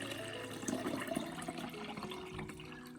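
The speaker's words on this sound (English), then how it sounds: "Add it to 1 liter of water." Water pours into a container holding a few teaspoons of rice for orchid fertilizer, a steady, fairly faint liquid rush with gurgling texture lasting a few seconds.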